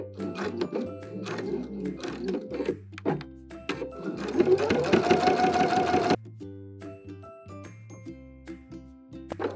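A sewing machine back stitches along the edge of an apron pocket, with short start-stop bursts of stitching, a longer steadier run in the middle, and nearby clicks and fabric handling.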